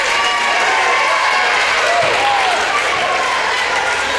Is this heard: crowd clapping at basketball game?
yes